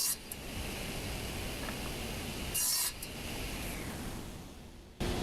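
Saw cutting wooden storage bench legs to 30-inch length, a continuous faint rasping hiss of the blade through the wood, with a couple of sharper bursts as the cut starts and finishes.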